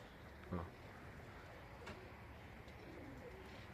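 English Tippler pigeons coo softly inside a loft, with a brief knock and faint rustling, the calls low and somewhat distant.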